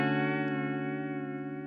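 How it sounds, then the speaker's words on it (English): A sustained electric guitar note through a chorus pedal set fully wet with the rate raised, giving a wavering vibrato, with a soft pick noise near the start. "So a fully wet chorus is vibrato."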